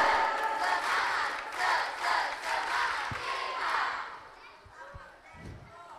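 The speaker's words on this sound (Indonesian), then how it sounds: "Sekali lagi, tepuk semangat koboi." An audience at an Islamic boarding school drama event chants and claps in unison as a rhythmic group cheer, with loud crowd voices for about four seconds before fading into a few scattered thumps.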